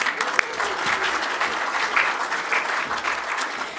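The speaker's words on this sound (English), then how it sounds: "And a round of applause." Sustained applause from an audience at a talk on creating a meaningful Jewish life, steady and fairly loud throughout with dense overlapping claps and a faint crowd murmur underneath.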